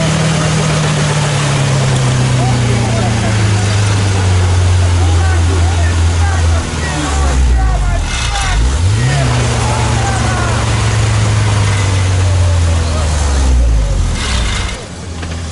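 Several vehicles, including a Mercedes S500, Audi Quattro, BMW X5 and Mercedes G-class, rev loudly from a standing start in a drag race, their engine notes rising and sweeping past close by while voices talk over the noise.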